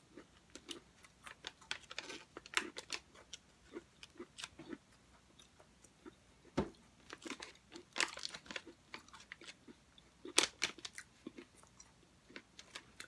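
Someone chews Fruity Pebbles crisps up close, a quiet run of scattered crunches and crinkly bites spread irregularly over several seconds, without talking.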